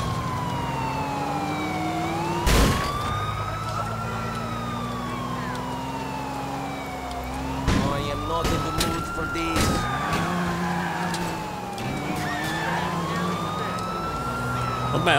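Police sirens wail in rising and falling cycles as cars chase the player in Grand Theft Auto IV, steady and loud throughout, with crashes, engine noise and someone talking over them.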